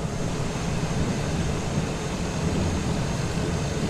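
An airliner in Microsoft Flight Simulator 2020 taxis to the gate at Geneva, its engines giving off a steady, loud, broadband rumble and roar with no breaks.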